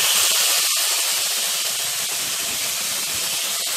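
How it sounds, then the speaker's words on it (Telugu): Tomato pieces hit hot oil with ginger-garlic paste for a fenugreek-leaf egg curry, giving a loud, steady, hissing sizzle that fills the whole stretch without letup. "ఇది పచ్చివాసన పోయేంత వరకు వేయించుకున్న తర్వాత టమాటా ముక్కలను వేసుకుని"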